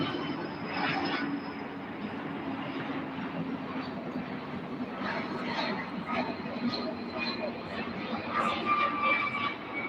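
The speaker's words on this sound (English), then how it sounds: "Sounds like C-130s are active." Military C-130 transport aircraft engines drone steadily at an airport during a morning landing rush, a continuous broadband roar with a faint high whine that swells slightly toward the end, with voices talking over it.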